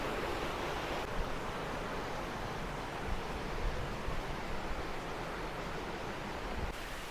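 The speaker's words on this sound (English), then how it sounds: "This is Aling-Aling waterfall." Aling-Aling waterfall in a Bali rainforest, a steady broadband roar of falling water heard from nearby, constant and dense throughout, with no talking.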